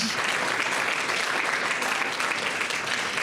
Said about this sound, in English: Could we get a round of applause for the groups that presented today?